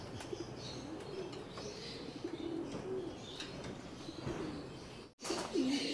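Domestic pigeons coo steadily in a breeding loft colony, repeated low throaty calls with occasional wing flaps and chirps, close and continuous with a brief dropout near the end.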